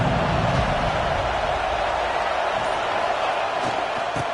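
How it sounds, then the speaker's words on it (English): Stadium crowd at an American football game roars as a steady, dense wash of noise that fills the whole stretch, loud and continuous with no clear breaks. "This crowd bringing the energy and noise early."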